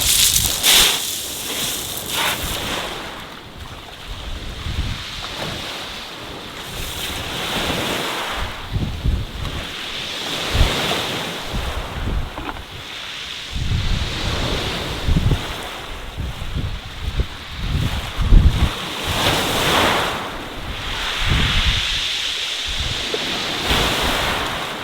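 Sea waves wash steadily onto the shore where worms are being rinsed in salt water for plaice fishing, a continuous roaring surf with gusts of wind buffeting the microphone and no voices.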